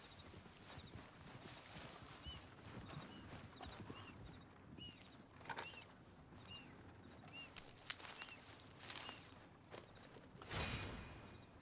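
Steady clip-clop of a horse's hooves walking at an even pace, with faint birdsong and a soft outdoor ambience behind it, in the video game Red Dead Redemption 2.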